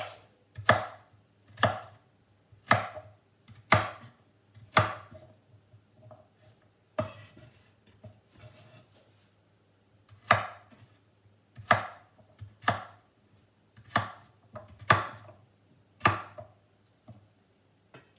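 A knife chops potatoes into thick fries and cubes on a board, sharp distinct thuds coming in an even rhythm in two bursts with a short pause between them, close and clear with no talking.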